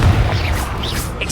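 Confringo explosive spell blast in Hogwarts Legacy, a single heavy booming burst at the start followed by a rumbling, crackling tail as the blast fades.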